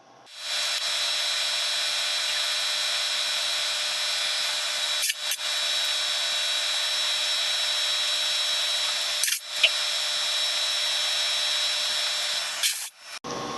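A power drill with the number 2 bit bores a tap-size hole for a Heli-Coil through a pilot hole in a 1964 Caterpillar D8H dozer part. It gives a steady, close, high whine that breaks off briefly twice.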